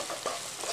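Stirring a capsicum and gram-flour sambharo mixture in a frying pan: a short, close scrape of the spoon over a soft sizzle, with no voices.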